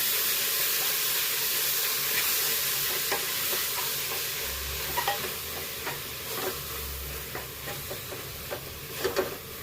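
Spinach frying in oil in a pan for a dal dish, a steady close sizzle and hiss with scattered sharper crackles and stirring scrapes throughout, no talking.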